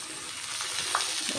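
Curry leaves sizzle in hot oil while tempering a Kanda Bachhali dish: a steady bright crackling hiss close by, with a few sharper pops, and no talking.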